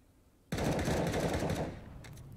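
Close, loud burst of rapid automatic gunfire in a Counter-Strike match, starting abruptly, rattling for about a second and a half, then fading into quieter clicks.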